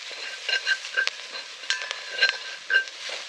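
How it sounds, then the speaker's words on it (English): Curried sausages stirred in a hot pan with a spoon, a gentle scraping and clinking with a light sizzle underneath, several short strokes close by, with no talking. "I'll give that another stir."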